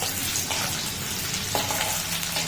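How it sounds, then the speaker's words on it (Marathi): Green chillies fry in a pan with a dense, continuous sizzle and crackle, broken by a few brief stirring scrapes; no voices. "आता हिरवी मिरची चांगली आपल्याला परतून घ्यायची आहे"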